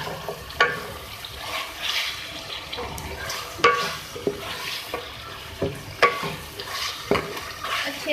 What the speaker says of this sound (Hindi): मैरिनेट चिकन डालने के बाद आप इसको कुक कर लें।